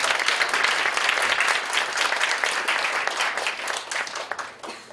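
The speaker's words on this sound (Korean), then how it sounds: "우리 박수로 우리 환영하겠습니다" A church congregation applauds during a Christmas Sunday worship service, a dense, steady wash of clapping from many hands that holds for the full stretch and tapers slightly toward the end.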